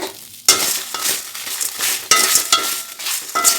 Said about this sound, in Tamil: உப்பு, மிளகாய், வெங்காயம் 3 சேர்த்து ஒரு பாதி அனல் வச்சு நம்ம வறுத்து எடுத்துடலாம்.